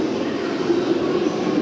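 Train pulling out of JR Osaka Station, a continuous low electric motor hum and rolling rail noise, steady and moderately loud with no breaks.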